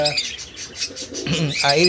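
Pet parakeets in a breeding aviary chirp and tweet in quick, busy bursts, with bright calls overlapping throughout and a louder run of chirps near the end.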